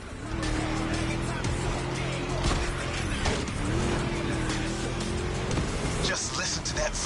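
A V8 engine roars in the racing game The Crew, a steady, deep, throaty drone with shifting pitch and faint tire noise, while a voice talks over it.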